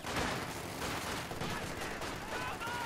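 A Maxim machine gun in Company of Heroes 2 rattles off rapid bursts amid the din of a battle, with the gunfire sitting fairly low in the mix and going on throughout.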